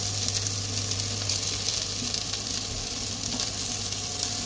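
Poppy seeds and grated coconut sizzle and crackle in a hot pan as they are stir-fried until the coconut browns for chicken xacuti. The frying hiss stays steady and close throughout.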